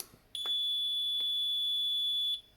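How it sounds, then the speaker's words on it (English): A DeWALT DCB1800 portable power station gives a single sustained high-pitched electronic startup beep, loud and steady, lasting about two seconds before cutting off, with a couple of faint clicks. "it makes that really high pitch beeping sound when it first comes on"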